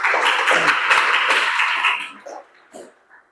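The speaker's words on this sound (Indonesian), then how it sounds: "Ya, tepuk tangan dulu buat." A group claps in a classroom training session, a burst of hand applause that holds for about two seconds and then fades to a few scattered claps and brief murmurs.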